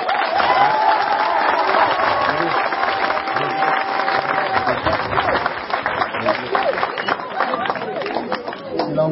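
Audience at a children's donation event clapping and cheering continuously, a dense applause texture with chatter mixed in and a voice speaking over it.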